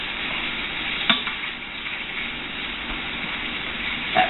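Onions and garlic frying in a pan, giving a steady close sizzle with occasional stirring scrapes and no voices.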